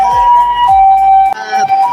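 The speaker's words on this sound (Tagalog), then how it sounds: "May dumahang ambulansya tabi lahat" An ambulance siren wails through Kuromon Ichiba market in Osaka, a loud, close, high warbling tone that rises and falls several times over a few seconds, with no talking.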